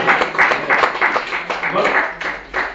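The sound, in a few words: congregation applauding in church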